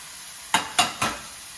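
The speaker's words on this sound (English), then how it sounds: "I'm gonna let this cook down, get it a little watery, probably 5 to 8 minutes on high heat" Three short sizzling bursts from heirloom tomatoes and sauce hitting a hot pan on high heat, close and loud, with quiet gaps between.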